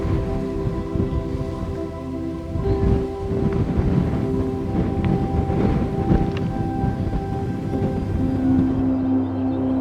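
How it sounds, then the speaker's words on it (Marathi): Steady, cool-sounding wind rushes across an open outdoor space through sonaki flowers on the Ratangad trek at sunrise, with low rumbling gusts and a faint tonal hum throughout. "सोनकीच्या फुलांमधून वाहणारा गार वारा"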